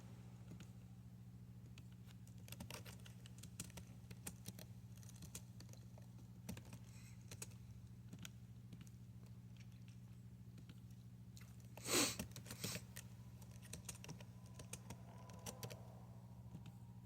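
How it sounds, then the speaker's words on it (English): An equation being typed on a computer keyboard produces faint, steady key clicks over a low constant hum, with one sharper clack partway through. No one speaks. "I am typing in the equation now."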